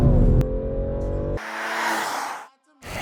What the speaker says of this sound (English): Now left foot on the brake, right foot on the throttle, launch control, build boosted.